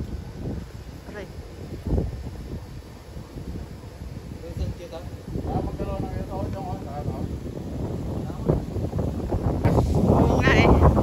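Strong wind gusting steadily around a house, a broadband rushing roar that builds toward the end, with people talking over it throughout.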